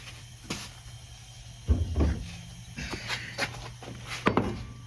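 A Harbor Freight bead-blast cabinet is tapped a few times and then opened: separate sharp knocks and clunks, followed by a cluster of metallic rattles and a door or latch clatter, close by with no talking.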